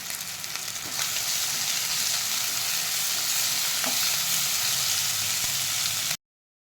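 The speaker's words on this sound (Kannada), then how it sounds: "ಈಗ ಚೆನ್ನಾಗಿ ಹುರಿದುಕೊಂಡಾಯಿತು" Fenugreek leaves fry in a pan with a loud, steady, dense sizzle up close, plus a couple of faint stirring taps, before cutting to silence; no talk.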